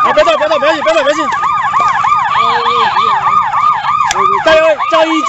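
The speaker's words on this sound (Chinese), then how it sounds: "警报器关掉，警报器关掉，没关系。" A loud police car siren wails in rapid repeating sweeps, up close during a street arrest scene, with shouting voices breaking in over it.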